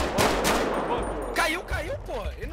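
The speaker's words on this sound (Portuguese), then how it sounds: "Os caras dando tiro no carro deles lá, véi! Meu Deus, o comando tá metendo bala nos caras" Gunfire at a car in GTA 5 roleplay on the Colombian border, several loud close bursts and single shots in an irregular volley, with excited voices talking over the shooting.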